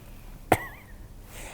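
A single sharp cough demonstrated by a man, one close, abrupt burst followed by a faint trailing rasp, alone against quiet room noise.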